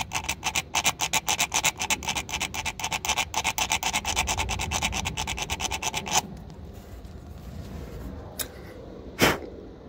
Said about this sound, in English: I'm going to work the file with the other hand.